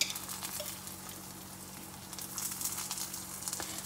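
Ghee sizzling in a pan, a steady close frying crackle with faint pops that swells slightly toward the end, with no talk.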